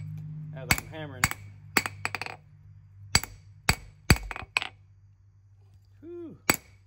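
Hammer blows on steel while forging a mountain man knife, sharp metallic clanks in irregular bursts with ringing tails, some in quick doubles, over a low background hum.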